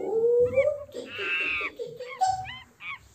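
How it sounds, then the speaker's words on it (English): A small brown monkey's call played from a toy box: a string of loud, close electronic hoots, squeals and rising whoops in quick uneven bursts, with no talk over them. "It's a small monkey."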